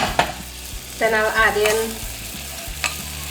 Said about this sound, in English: in my pan I'm going to add 2 tablespoons butter